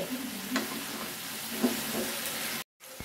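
Vegetables fry uncovered in a pan without water, a steady bright sizzle with stirring scrapes, cut by a brief silent gap near the end.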